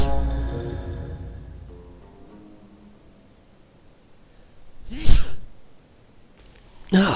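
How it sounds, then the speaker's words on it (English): A single loud, close sneeze bursts out after a few seconds of quiet, with a second sharp burst of breath or noise right at the end; no speech is heard. "that was such a loud sneeze"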